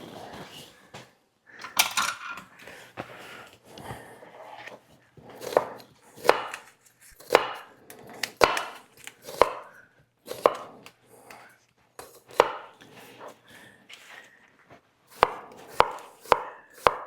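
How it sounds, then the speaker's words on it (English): A knife chops onions and garlic on a cutting board in uneven bursts of crisp, close thuds, some quick runs and some spaced single strikes, with occasional clinks of kitchen utensils. "so that we can chop the onions and the garlic."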